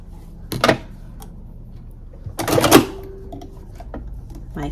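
A sewing machine stitching quilt binding with ricrac trim gives two short loud bursts of clattering stitches, the second ending in a thread jam and stall, close against a quiet room.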